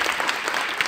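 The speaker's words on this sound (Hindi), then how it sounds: "आपकी तालियां बहुत कमजोर थी, एक बार बजा दो, विदा कर दो" A dense burst of audience clapping after a poem recital, loud and close, with no voices over it.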